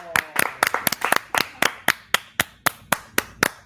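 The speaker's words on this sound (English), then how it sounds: "let's clap for Paul" Audience at a New York collectibles convention clapping in a short burst: a series of sharp, distinct handclaps, fairly close and even, roughly a dozen strikes at a brisk steady pace before trailing off.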